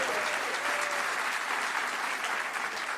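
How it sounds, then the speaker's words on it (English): An audience at a CES 2020 keynote claps for an announcement, a dense, sustained round of applause from a large crowd that holds steady throughout. "They were applauding during your announcement there"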